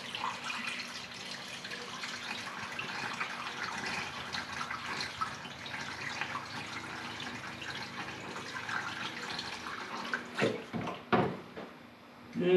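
Water pours steadily into the cooling system of a 1970 Ford F250 dually, a continuous rushing flow that carries on at an even level, then breaks into a few splashy surges near the end.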